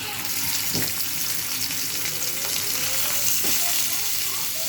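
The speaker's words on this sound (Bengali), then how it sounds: "তেল দিয়ে মাছগুলো ভেজে নেবো তেল আমার গরম হয়ে গেছে এবার মাছগুলো দিয়ে দেবো" Parshe fish fry in hot oil in a frying pan, giving a steady, close sizzle that fills the whole stretch, with a few soft stirring knocks and no talking.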